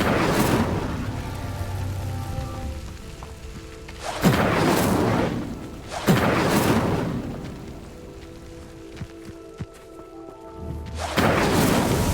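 A fire spell cast in a video game erupts in three loud whooshing bursts, each with a sharp onset and a roaring tail, separated by quieter ambient stretches with faint tonal hum and small clicks.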